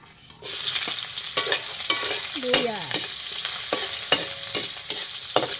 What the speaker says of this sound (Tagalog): Gisa na natin yung luya.